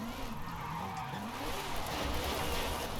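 A car drifts in the Forza Horizon 5 racing game, tires skidding and squealing continuously over a droning engine for about three seconds, at a moderate, steady level.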